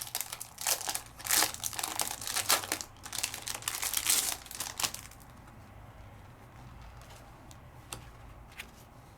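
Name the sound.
paper being handled and crinkled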